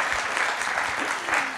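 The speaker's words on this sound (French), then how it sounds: "Merci pour les applaudissements" Audience applause at a talk about a photographer's work, a short, dense stretch of clapping with a murmur of voices beneath it.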